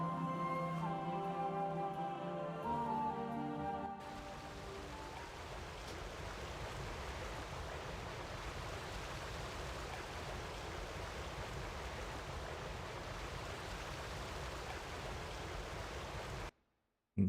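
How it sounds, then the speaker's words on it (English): Steady rushing water from a waterfall in a fantasy online role-playing game, a dense continuous roar that fills the clip alone after some quieter game music fades out in the first few seconds. "turn off the sound because that waterfall's noisy"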